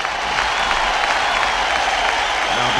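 A short burst of hand-clap applause plays as a steady, dense wash of many claps, loud and close, lasting under three seconds with no voices over it.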